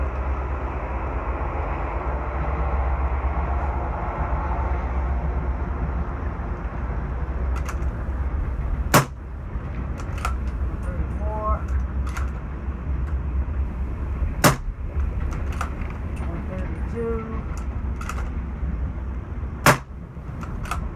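Suppressed .300 Blackout rifle shots firing Gemtech ammunition, three sharp, loud cracks spaced several seconds apart over a steady low outdoor rumble, with faint clicks and handling noise between them.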